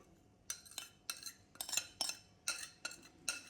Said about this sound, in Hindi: ये मेरे पास आधा किलो भिंडी है। इस बाउल में डाल लूँगी